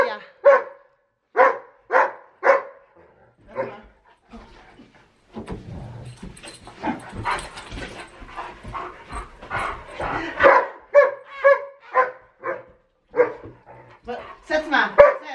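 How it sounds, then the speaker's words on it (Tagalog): A small dog barks in rapid, loud bursts at close range, with some whimpering and yips, while someone talks excitedly over it in between. "Ang ingay na Andy."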